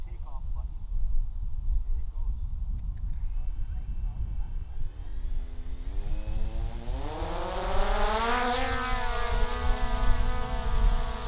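A drone spins up and lifts off, its whine rising steadily in pitch and growing louder as it climbs away, heard beneath someone talking and outdoor rumble.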